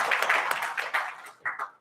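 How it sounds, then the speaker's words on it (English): An audience at a book launch claps to welcome a speaker: a short burst of close, dense applause that thins out into a few scattered claps and fades. "Let us have a very big round of applause to welcome him."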